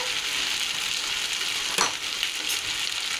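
Boiled potato frying in a pan for a fish and aubergine curry, a dense continuous sizzle with one sharp stirring scrape partway through, close and steady, no speech.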